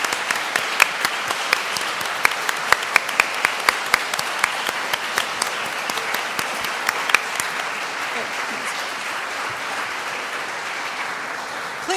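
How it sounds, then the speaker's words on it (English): A congregation applauding each other during a service, sustained full-room clapping with a few louder individual claps standing out near the front, holding steady for the whole stretch before easing slightly toward the end. "let us give each other and everyone a big round of applause"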